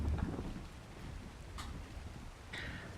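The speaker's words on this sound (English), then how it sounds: "It sucks that it's dark and raining right now" Steady rain falls at night in the survival game Ark Survival Evolved, a soft constant hiss with a couple of faint brief crackles, no voices over it.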